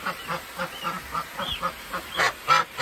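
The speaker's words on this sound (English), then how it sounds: "Somebody brought me 4 ducks last night." Four ducks in a duck pen quack and honk in short repeated bursts, fairly close, with a couple of louder calls toward the end and a little noise around them.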